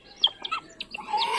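A good-sized hen from a farm selling parrot-beak birds gives a few short clucks and chirpy calls, close by and moderately loud, with no talking.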